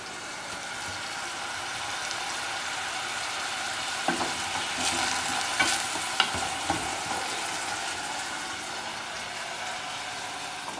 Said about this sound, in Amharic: ስለዚህ ለሽንኩርት ማብሰያ እጨምራለሁ እና አሁን አቁላላለሁ።